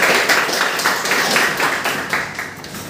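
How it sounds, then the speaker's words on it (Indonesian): Loud, close applause from a classroom of students in a CNC machining lesson, given for group A returning to their seats, with a brisk, pulsing rhythm of many hands. "Beri tepuk tangan untuk kelompok A."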